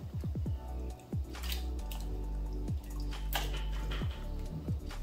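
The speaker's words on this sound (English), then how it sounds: "So I'm going to add my potatoes in the water." Cut potatoes are dropped into a pot of water for boiling. A quick run of plopping splashes comes first, then single drips and plunks at spaced intervals. The sound is close and quiet, with no talking.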